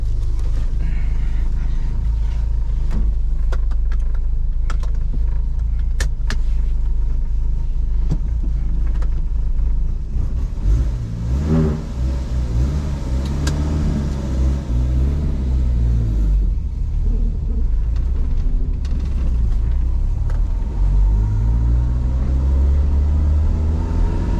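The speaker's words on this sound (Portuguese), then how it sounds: "no vídeo de hoje a gente vai dar uma volta de Corsel 2" A 1981 Ford Corcel II being driven, its engine rumbling steadily from inside the cabin, with a rising rev midway as it accelerates through a gear, plus occasional small clicks and rattles.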